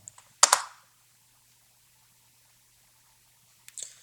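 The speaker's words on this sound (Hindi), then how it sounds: "इसको मैं एंटर प्रेस करता हूं" A few crisp keyboard clicks on a computer keyboard as the Enter key is pressed, a sharp double tap followed by silence and a lighter click near the end, close and quiet.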